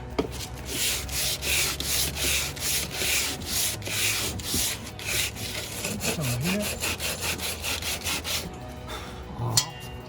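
Steady back-and-forth rasping of sandpaper on a wooden window stop, rhythmic strokes close up, continuing for several seconds with a brief pause near the end.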